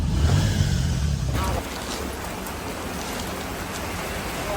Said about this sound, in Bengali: লাইক কেমনে যাইতাছে বৃষ্টির ভিতরে?